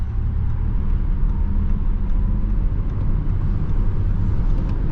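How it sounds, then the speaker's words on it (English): Interior of a 2025 Audi A6 e-Tron Sportback electric car at full throttle from highway speed, a steady low rumble of road and wind noise filling the cabin with no clear motor whine, no talking. "So that was full throttle in the A6 e-Tron."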